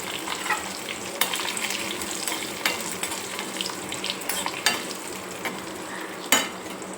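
Curry leaves, dried red chillies and garlic cloves frying in hot oil in a pan, a close, steady crackling sizzle punctuated by several sharp pops and spatters, with no voices.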